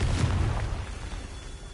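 A Confringo fire spell in Hogwarts Legacy bursts with a deep, booming blast that quickly fades into a rumbling tail, alone with no talk.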